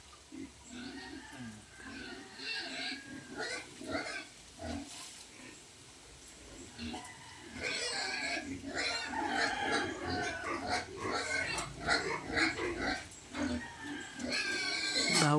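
Pigs squealing and grunting at a farm, a busy mix of squeals and snorts that grows louder and denser in the second half, with people talking over and between the animals.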